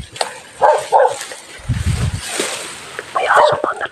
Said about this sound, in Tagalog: May aso pa dala-dala.